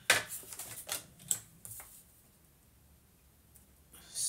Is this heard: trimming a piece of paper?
yes